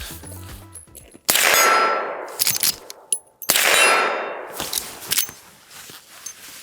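Henry Big Boy Mod X .357 Magnum lever-action rifle firing Winchester soft points outdoors, two sharp loud shots with long rolling echo tails, plus metallic clinks and lever clatter between them.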